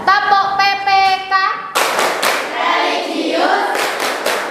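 A group of students in a classroom claps along in a rhythmic PPK clap chant, with voices heard first and then a burst of bright clapping that continues strongly.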